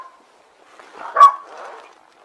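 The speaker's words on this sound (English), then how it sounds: "that's the next door neighbour's dog." A neighbour's dog barks next door: one sharp bark at mid-distance, followed by a softer trailing yelp, with quiet before it and no talking.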